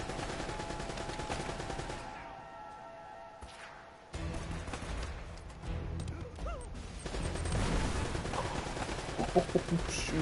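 Gunfire in the video game Uncharted, bursts of shots and rapid automatic fire mixed with game noise. It drops briefly into a quieter stretch, then the shooting builds louder toward the end, with some voice in the mix.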